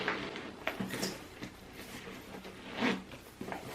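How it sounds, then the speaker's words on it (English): A zipper being pulled closed on a tightly packed Louis Vuitton bag: faint, close scratchy zipping in short bursts with small clicks and handling noise, no talking. "So now let's zip it."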